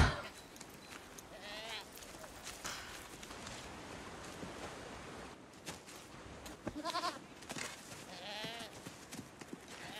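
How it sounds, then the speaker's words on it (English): Goats bleat several times amid a busy scene, quavering cries rising over rustling and footsteps, with people talking around them. "Little goats."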